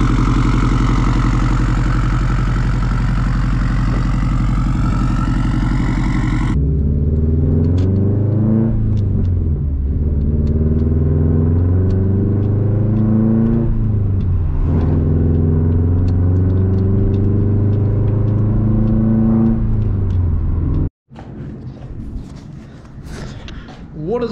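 A 2004 Subaru STI with a Tomei exhaust rumbles loudly at idle, its deep engine note rising and falling through several revs, with someone talking over it before a brief cut and quieter sounds at the end.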